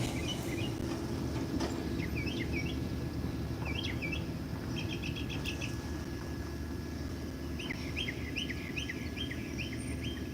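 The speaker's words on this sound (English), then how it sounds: "You hear the birds chirping in my background." Birds chirp outdoors near a porch, with faint, scattered bursts of short chirps and trills over a steady background hum and no talking.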